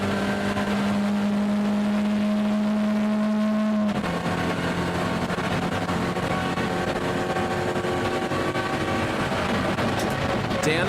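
Onboard sound from a BMW E30 race car in a New Zealand E30 series race at Pukekohe: a steady, loud engine drone with a sustained tone that drops sharply partway through as the car lifts or shifts for a corner, then carries on rougher, with commentary over it.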